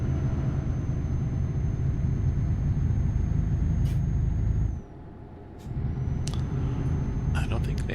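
A truck braking in Euro Truck Simulator 2: a steady engine rumble with a high whine that drops out briefly as the brakes engage, then resumes, alongside small clicks.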